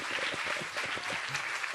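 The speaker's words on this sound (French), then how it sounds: "Par Fritz, le guitariste qu'on applaudit" Applause for the guitarist at a live radio showcase, a fairly quiet burst of crowd clapping heard at a moderate distance, with a voice faintly present underneath.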